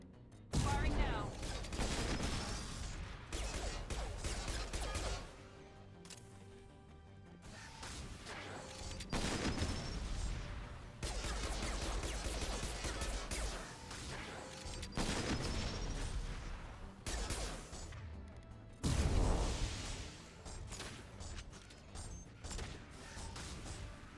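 Repeated bursts of automatic gunfire crack through a firefight in the sci-fi shooter Mass Effect 2, loud volleys separated by short pauses, with a voice heard between them.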